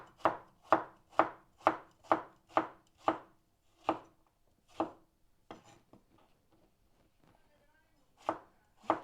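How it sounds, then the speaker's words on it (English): A knife chops aubergine into pieces on a board, about a dozen crisp, evenly paced thuds coming close and clear, then a pause with faint handling before a few more cuts. "cut them down the middle"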